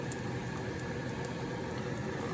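Minced garlic sizzles in heated oil in a pan, a steady close hiss with faint crackling pops running throughout, no voices.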